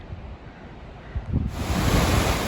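The rushing Dudh Kosi river near Monjo, Nepal, on the Everest Base Camp trail, gives off a broad, roaring wash of water that swells louder after a moment, with some wind buffeting the microphone.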